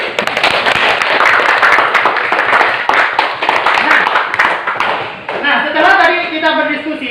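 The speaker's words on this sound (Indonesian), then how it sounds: "beri aplaus dulu untuk semuanya" Students in a classroom break into brisk, dense clapping that fills the room for about five seconds, then stops as a teacher's voice begins speaking.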